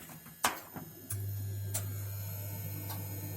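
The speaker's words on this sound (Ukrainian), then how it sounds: "отакий турбірований навісний двохконтурний газовий котел Беретта. Вмикаю його" A wall-mounted, turbocharged, dual-circuit Beretta gas boiler starts up: a few clicks, then a steady low hum begins and carries on close by, with no talk.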